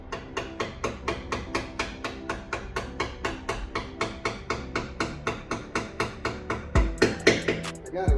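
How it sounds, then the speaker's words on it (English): Rapid, evenly spaced sharp scrapes and knocks as a small flathead screwdriver pries old seam sealer out of a car body, around thirty close strikes in steady rhythm, ending in a few louder, irregular hits. "Right now I'm just using this little flathead to slowly pry out all the old seam sealer."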